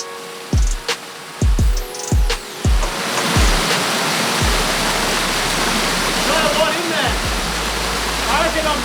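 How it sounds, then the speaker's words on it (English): Freshwater stream in the Kimberley of Australia's north-west, heard as a steady, close rushing wash of flowing water that takes over after a few sharp knocks at the start and continues alone. "freshwater streams in the Kimberley."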